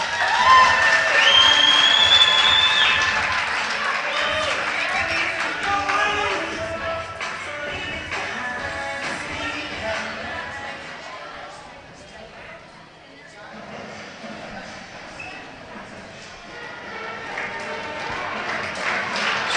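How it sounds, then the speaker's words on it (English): Crowd at a high school varsity volleyball match between Meeteetse and Ten Sleep cheering and clapping in a gym, a loud, busy roar with shuffling and scattered claps that dips midway then swells again, under an announcer's talk. "Pioneer crowd really getting into this game."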